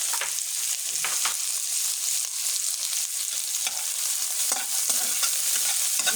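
Bay leaf, cardamom and cinnamon frying in a blend of mustard oil and white oil for a chicken curry, giving a loud, continuous sizzle with occasional stirring scrapes, no voices.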